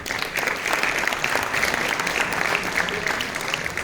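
A crowd applauds steadily at a chess tournament prize-giving ceremony, a dense, even wash of many hands clapping for the full stretch without pause.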